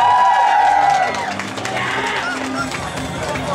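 An audience at a Touhou convention booth cheers a keyboard player who is attempting Perfect Cherry Blossom Stage 6. The cheering and chatter are loud and close, and an announcer's voice carries over them.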